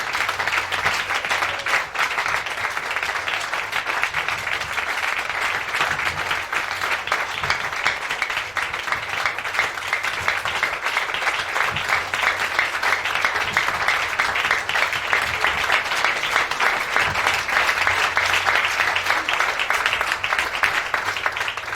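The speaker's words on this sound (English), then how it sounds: "Give a clap of faith." Sustained applause from an audience at a church revival conference in Togo, a dense, even wash of clapping lasting over twenty seconds, loud and continuous with no speech.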